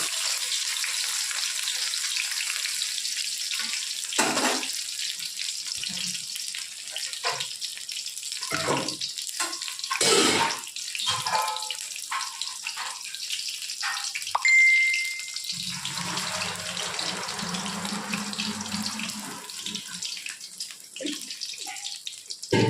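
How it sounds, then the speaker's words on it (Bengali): Soft hissing sizzle of battered pumpkin flower fritters deep-frying in oil, broken by occasional clinks and brief bursts, with a quieter bubbling stretch toward the end. "এবার একদম লাল লাল করে ভাজা হোক"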